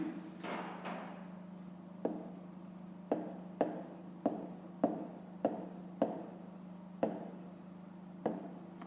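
Chalk or marker strokes on a classroom board while writing a fraction, with a steady run of about a dozen short, sharp taps and scratches at an uneven pace, close and clear over a faint background hum.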